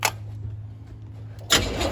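A 468 big block Chevy V8 in a Nova cranks and catches, a short starter whir followed by a loud, rough roar as the engine fires at close range.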